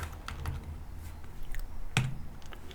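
Light keystrokes on a computer keyboard as an Excel formula is typed, a few soft scattered taps with one sharper click, close and quiet, no talking.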